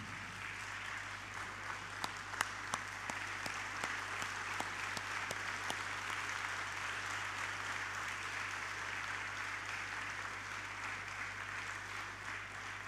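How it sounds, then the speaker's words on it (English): A standing congregation claps steadily for a newly installed bishop at a church installation ceremony, continuous moderate applause heard from a distance over a constant low hum, with a few sharper claps standing out. "May we all stand and clap"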